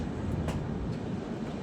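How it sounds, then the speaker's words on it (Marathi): Haridwar–Mumbai LTT AC SF Express train pulling away, heard as a steady broadband rumble and rolling noise from on board, with a couple of faint higher squeaks over it. "तर आपली ट्रेन इथून निघाली,"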